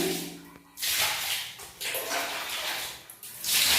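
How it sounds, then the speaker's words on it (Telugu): Water is poured over a freshly scrubbed bathroom floor, a loud splashing wash in several bursts separated by short dips, close and without talk. "ఫ్లోర్ క్లీన్ చేశానండి వాటర్ పోతున్నాను"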